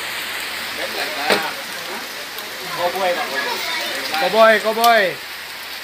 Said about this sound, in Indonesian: Hari hujan lebat.